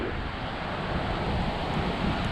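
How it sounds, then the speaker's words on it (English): Swift floodwater rushes along outside Pennington Gap, Lee County, Virginia, a dense, steady roar of moving water mixed with wind buffeting the microphone, loud and unbroken throughout. "It does look like the water level is still elevated here, and it's moving pretty swift."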